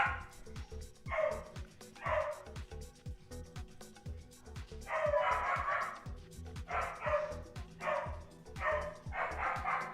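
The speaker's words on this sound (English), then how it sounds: "Got my dogs going absolutely crazy." Several dogs bark and yip excitedly in repeated bursts, fairly close and loud, over a steady low hum in an indoor room.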